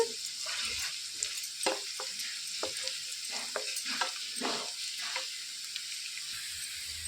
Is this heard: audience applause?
no